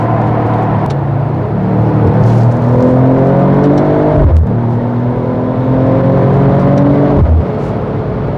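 A Mercedes-AMG CLE 53 Cabriolet engine pulls hard on the road, its loud, steady note climbing in pitch through the gears with brief dips at each shift, close and alone.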